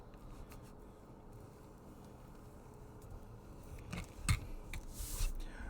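Scissors snip through a strip of tape while a LARP kukri prop is being made, giving a few quick close cuts with light rustling near the end of an otherwise quiet stretch.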